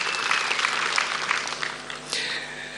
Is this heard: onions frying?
no